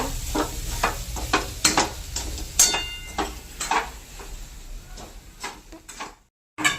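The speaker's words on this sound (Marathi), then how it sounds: "छान हलवून घेते" A spoon works through a wet grated coconut and sugar mixture in a hot pan, making soft repeated scraping and tapping strokes over a low sizzle, close by and with no talk.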